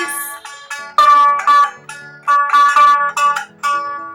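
A bright plucked string of a one-string aktara rings out in short repeated phrases, each note sharp and twangy with quick decay.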